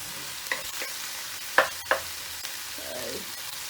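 Bacon fried rice is stirred in a pan, with soft sizzling, a few sharp utensil scrapes and clinks against the pan, and a quiet, close, intermittent rhythm and no talk.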